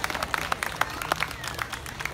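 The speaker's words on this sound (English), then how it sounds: "Let's have a round of applause." Spectators at a dog show clap for a beagle, a fairly quiet, scattered patter of individual hand claps with distinct separate strikes rather than a dense roar.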